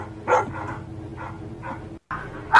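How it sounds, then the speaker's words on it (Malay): A dog barks repeatedly in a steady series of sharp, fairly close barks over a continuous background hum, with a louder bark at the end. "itu suara anjing siapa itu guys?"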